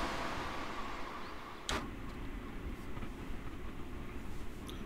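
Inside the cab of a train in Train Sim World 2, a low, steady rumble of running wheels and motor continues throughout, with a brief sharp rattle or clunk near the middle and faint knocks later.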